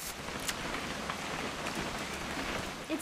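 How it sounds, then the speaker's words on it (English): Rain falling in the video game What Remains of Edith Finch, a soft, steady patter of drops on surfaces with occasional closer splats, continuous and fairly quiet, with no voices. "It's gonna rain the whole weekend, isn't it?"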